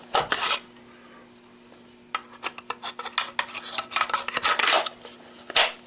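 A tactical brass catcher snaps onto a rifle with several sharp plastic-and-metal clicks and rattles, close and fairly loud, in an otherwise quiet room with a steady faint hum.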